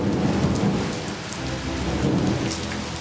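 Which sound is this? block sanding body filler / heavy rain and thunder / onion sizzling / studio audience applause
heavy rain and thunder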